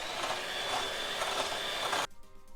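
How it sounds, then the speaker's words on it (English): Electric whisk whipping cream to peaks for a banoffee pie, a steady loud whirring buzz that cuts off abruptly near the end, leaving a few faint clicks. "And now whisk it till it forms peaks."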